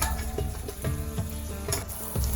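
Chili powder and tomatoes fry in hot oil with a spice tempering, a loud continuous sizzle broken by regular scraping stir strokes throughout, with no voices.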